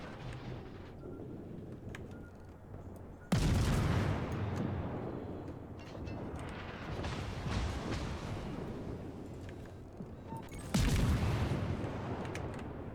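Heavy naval gunfire in World of Warships aimed at an Iowa battleship: two deep, booming cannon blasts several seconds apart, each with a long rumbling decay over a constant low background of engine and sea noise.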